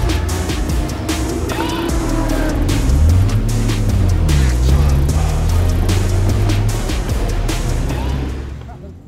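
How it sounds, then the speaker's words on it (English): Toyota Supra 3-litre engine burbling on a race track at Donington, a loud continuous drone with rising and falling pitch sweeps as the revs change, crackling overtones throughout and a faint voice underneath. "They've got a real burble to them, these Supras"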